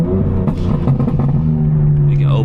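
A tuned 750 hp BMW G82 heard from inside the cabin with the windows down, its deep, steady engine drone and wind noise filling the space at close range.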